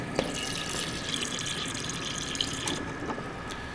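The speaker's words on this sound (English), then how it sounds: "Fill a cup with water." Water running from a kitchen tap into a cup, a steady close hiss of flow with a few small splashes and no voices.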